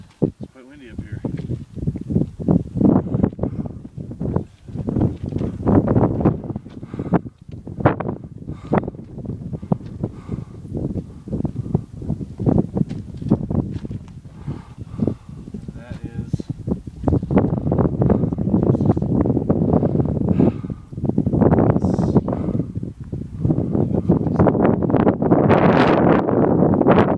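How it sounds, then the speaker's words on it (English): Strong wind on Kaiser Peak, a mountain summit, buffets the microphone in a loud, continuous roar that surges in gusts and grows heavier toward the end. "It's quite windy up here."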